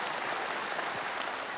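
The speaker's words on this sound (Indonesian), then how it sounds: "Tepuk tangannya yang paling meriah buat Tuhan kita." Congregation applauding God during a church service, a brief, fairly soft wash of steady clapping with no voices over it.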